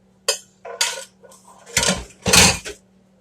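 Chopped peppers scraped and dropped into a casserole dish for a pizza casserole, a series of five distinct clattering bursts of utensil against dish separated by short quiet gaps.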